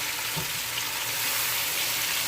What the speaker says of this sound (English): now guys, I'm gonna add my garlic